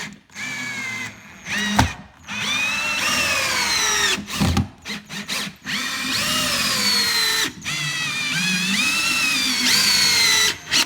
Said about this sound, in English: We're gonna screw in the 3-inch screws.